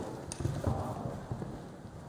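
Horse hooves clip-clop on arena footing during a riding training camp, a steady run of muffled beats with several firmer thumps near the start, close and moderately loud.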